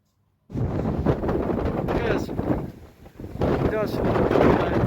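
Cyclone-force wind batters Kharkiv in a loud, continuous roar that buffets the microphone, easing briefly before surging back, while voices talk over it.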